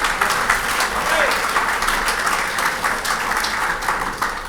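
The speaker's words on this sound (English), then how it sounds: "so quick round of applause for them as well" A hall crowd at a football league Hall of Fame night applauds the organising committee, a continuous, fairly loud round of clapping with some talk mixed underneath.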